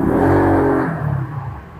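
Motorcycle fitted with a Sun Racing exhaust pipe revving close by, a strong low rasp that rises then drops back to a lower idle burble, heard alone.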